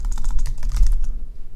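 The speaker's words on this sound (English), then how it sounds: "I'll type in HTML" Quick rattling taps on a computer keyboard, about a dozen close keystrokes in a fast burst that stops abruptly partway through, heard close and alone.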